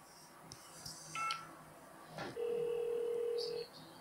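Electronic telephone dial tones sound within a strange experimental hip-hop track, with short touch-tone beeps near the start and a long sustained tone later, mixed against the music's beat at moderate level.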